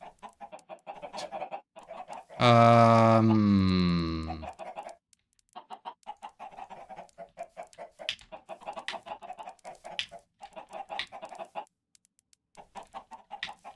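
A chicken gives one loud drawn-out call near the middle, set among a long stretch of rapid, soft clucking and scratchy bursts, with short quiet gaps between the sound groups.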